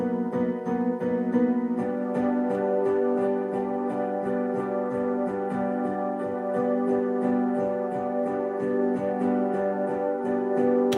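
Piano plays one repeated chord with an added octave, the hits falling in a steady pulse. The ringing tone holds a constant loudness throughout, close and alone, with no voices.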